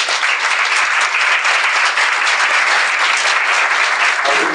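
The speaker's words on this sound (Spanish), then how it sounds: "A quien pido un aplauso para él." Sustained, loud applause fills the room at an academic seminar on library science and documentation, a thick, even roar of many hands clapping continuously from start to finish.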